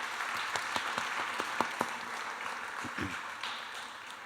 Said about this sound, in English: Big round of applause for Aparna, please